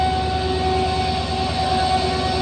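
A diesel locomotive at a railway station gives a steady, loud droning hum with a constant engine tone that runs the whole time, and no voices can be heard over it.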